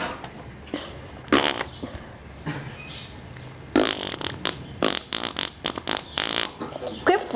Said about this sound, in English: Quit farting